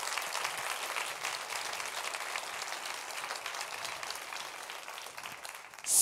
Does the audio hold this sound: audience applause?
yes